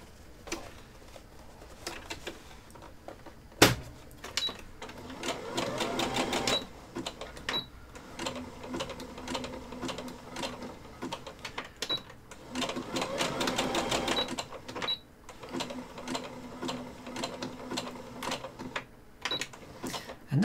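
A sewing machine stitches a seam in several close bursts of rapid mechanical clatter with brief pauses between runs, a sharp click near the start and some faint handling sounds.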